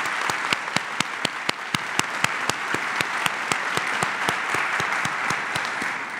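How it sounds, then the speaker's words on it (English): A retirement ceremony audience applauds the Old Guard and Army Band, steady dense clapping with a few sharp nearby claps punching out in a regular rhythm over the wash. "I want to thank the Army Band for all you have done to put this ceremony together, as well as yesterday's events. So a round of applause, please,"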